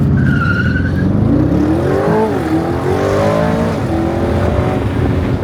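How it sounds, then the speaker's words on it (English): A $287,000 Aston Martin Vantage doing a launch control start, engine roaring loud and close with rising gear-by-gear pitch sweeps and tire squeal as it accelerates hard. "We gotta try a quick little launch control."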